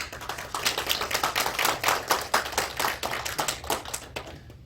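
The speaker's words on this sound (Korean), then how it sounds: "화정의 박수로 같이 해주시기 바랍니다" A church congregation at a Sunday service claps to welcome a visiting pastor, individual hand claps fairly close and distinct, forming a loose rhythmic patter that tapers off and stops near the end.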